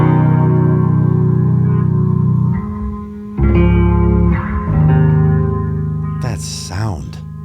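Deep sustained bass guitar notes layered in a loop through a Red Panda Lab Tensor pedal, washed in reverb, with changing chords and a few high plucked harmonics near the end.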